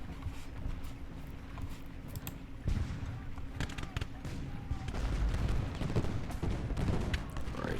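Musket volleys crackle in Ultimate General: Gettysburg, a Civil War strategy game, with scattered shots through the first half building to heavier, denser fusillades from about three seconds on, mixed with battlefield rumble.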